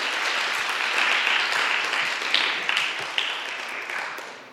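A meeting audience claps together in a room, a steady, full round of applause that is close and lively, slowly easing off with a few louder individual claps near the end.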